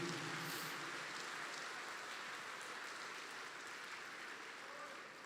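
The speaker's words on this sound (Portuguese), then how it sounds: "Vamos aplaudir a essa família, por favor, em nome do Senhor Jesus." Congregation applauding a family during a Sunday morning church service, a dense steady clatter of many hands filling the room evenly and slowly easing off toward the end.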